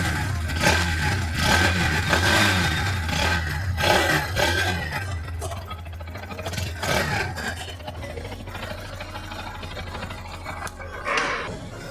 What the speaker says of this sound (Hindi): उसी के साथ में इसका छोटा सा एग्जॉस्ट नोट सुनते हैं